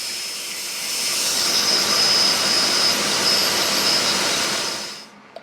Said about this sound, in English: Then time for a quick sand up for all the grit.